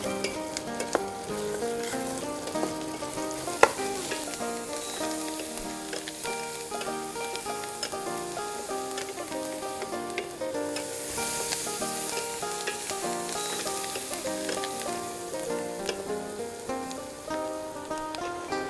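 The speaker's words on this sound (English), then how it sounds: "Usually while sauteing onion, I like to add a little salt" Onion sautes with a little salt in a pan for spinach soup, a dense, continuous sizzle like light rain, with soft stirring scrapes throughout and a sharp tap partway through.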